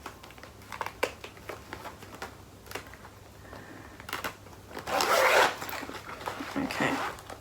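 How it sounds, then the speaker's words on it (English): A stiff zipper gets worked open in short ragged bursts of scratchy teeth rasping, then a longer loud pull near the end. A voice talks quietly underneath and a dog is heard faintly. "If I can get it to unzip. This zipper is particularly not friendly to me."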